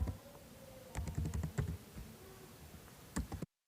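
Computer keyboard typing a PAN number into Tally Prime accounting software, with quick irregular key clicks in short bursts, close and fairly quiet, ending in abrupt silence.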